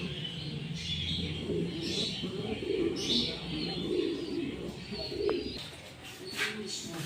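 Pigeons cooing inside a pigeon shop, soft repeated coos and occasional chirps close by, with faint background chatter.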